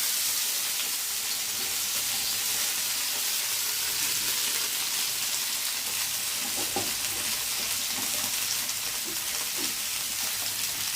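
Mixed vegetables fry together in oil in a pan, giving a steady, loud, close sizzle with soft crackles that runs without a break and has no voices over it.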